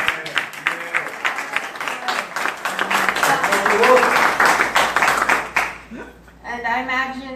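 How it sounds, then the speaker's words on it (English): Audience at the NCOBRA 2017 reparations convention breaks into dense, sustained applause that holds steady for several seconds, then cuts off abruptly as a voice starts talking alone. "give another round of applause"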